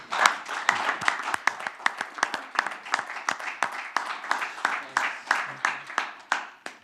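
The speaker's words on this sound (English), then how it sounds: "I think we should applaud." Audience at a St. Croix County Board meeting gives a short round of applause, with sparse, fairly close individual claps in an irregular rhythm and nothing else over them.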